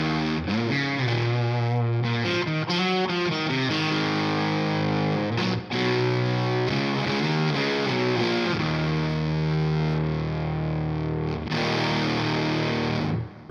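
Beetronics Octahive fuzz pedal with its pre input control turned all the way up, driven by an electric guitar: a huge, thick, saturated distortion tone across a continuous run of notes and sustained chords, loud and close, with no speech.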